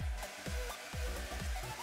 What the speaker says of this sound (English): But I will give it 2 minutes on the blow dryer, and we'll see what happens.